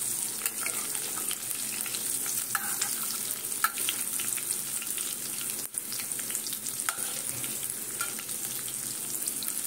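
Shrimp and chopped-potato pakoras being flipped in hot frying oil: a steady, bright crackle of oil with intermittent stirring and turning clicks throughout, and no voices.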